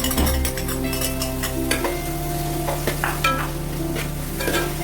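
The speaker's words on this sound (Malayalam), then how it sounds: "ഇനി നമുക്കിത് നന്നായിട്ടൊന്ന് വഴറ്റിയെടുക്കാം" Crushed garlic and ginger sautéing in a pan of hot oil, a steady close sizzle with repeated scraping and stirring strokes of a spoon against the pan.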